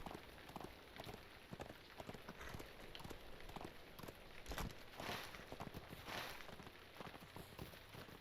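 Horse hooves clip-clopping in the online game The Lord of the Rings Online, a steady run of soft, faint hoofbeats over a hissy background with no talk.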